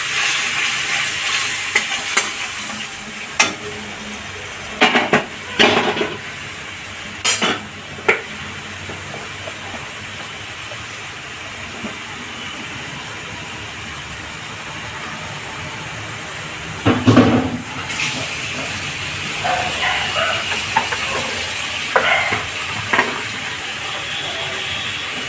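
Pointed gourd mixture, grated and salted, sizzles softly in a pan while being stirred, with scattered scraping bursts of the spoon and a short splash as its reserved salty water goes in.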